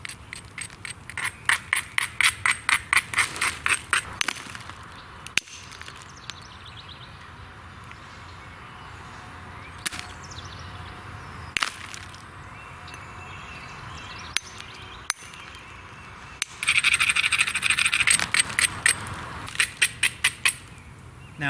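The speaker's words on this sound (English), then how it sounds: "I take a coarse stone and I grind the edges to make it easier to peel those flakes off." A coarse stone grinds along the edges of a flint knife in quick rhythmic bursts of scraping and clicking strokes, close by, separated by short pauses and occasional sharper knocks.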